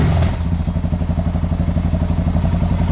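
A 2015 Suzuki DR650 single-cylinder engine fitted with a GSXR 1000 exhaust idles close and loud, its deep, lumpy, pulsing thump running steady and unbroken throughout.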